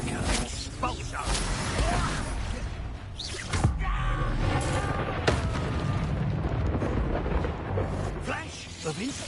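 Blasting spell explosions during combat in Hogwarts Legacy: several booming, whooshing bursts over a dense, continuous background of game noise, with a voice speaking throughout.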